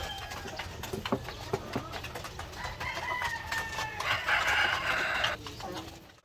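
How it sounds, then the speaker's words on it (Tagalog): Native chickens, Shamo and an upgraded native breed, cluck and call in a backyard coop, with a rooster crowing loudly toward the end over steady, busy flock chatter. "Ito naman yung mga native natin na mga manok. Shamo at saka yung upgraded native chicken natin."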